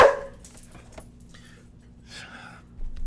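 Several dogs bark and yip in an agitated burst below, with sharp, separate calls spread through a few seconds, loudest at the start and fading into quieter yelps.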